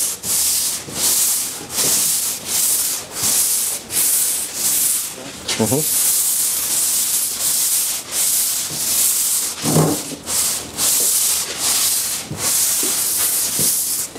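Steady rhythmic hand block sanding on the hood of a 1966 Mustang, abrasive paper rasping back and forth in even strokes about every second, loud and close, with brief pauses and someone speaking now and then.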